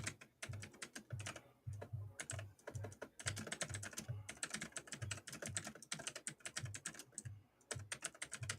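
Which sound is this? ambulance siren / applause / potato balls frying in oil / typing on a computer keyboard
typing on a computer keyboard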